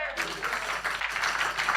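A church congregation applauds during an Easter Sunday evening service, a dense, steady wash of many hands clapping throughout, with voices mixed in.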